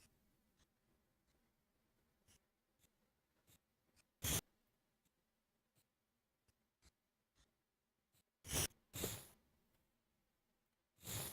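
A pencil scratching on paper, heard as faint, scattered short strokes over a quiet room, with a few louder rustles and breathy bursts near the end.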